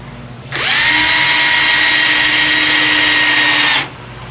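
A power driver runs screws into the corners of a rotary table box in one loud, continuous whine that rises and holds for about three seconds, then stops abruptly.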